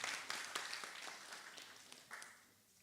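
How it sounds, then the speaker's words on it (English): Brief, fairly faint applause from a gathering at a weekly bhajan meeting, thanking volunteers, with a few sharper claps standing out before the sound dies away. "can we give a round of applause to all our volunteers"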